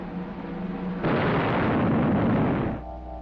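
Big Bertha, the Kaiser's heavy artillery gun, fires in a 1946 documentary film: a loud sudden boom that swells into a long rumbling roar lasting about two seconds before cutting off, with no talk.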